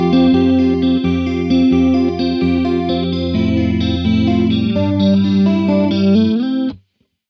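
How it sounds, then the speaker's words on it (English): Electric guitar through a chorus effect with a booster pedal adding lo-fi grit, playing a steady layered tapped-style figure of ringing chords and notes, loud and alone before cutting off near the end. "So let's bring in the main sound, the chorus sound."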